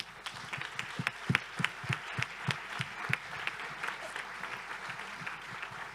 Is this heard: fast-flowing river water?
no